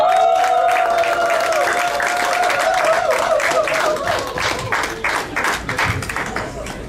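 Applause from a convention audience at the NCUDA USA 2019 gathering, many hands clapping in a dense patter that builds and then thins out, with a voice talking over the claps.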